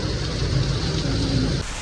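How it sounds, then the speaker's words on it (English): Heavy rain pours down steadily in Taipei in a dense, loud wash of noise, with no voices, easing slightly in the final moment. "Oh my God, it's pouring."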